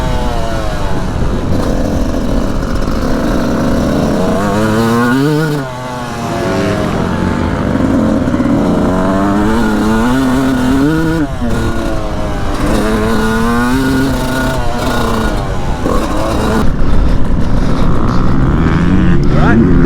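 Motocross motorcycle engine revving and riding during a warm-up on a training track, rising and falling in pitch over about twenty seconds, loud and close, with speech heard over it.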